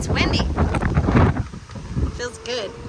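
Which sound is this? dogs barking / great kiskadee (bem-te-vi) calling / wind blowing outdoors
wind blowing outdoors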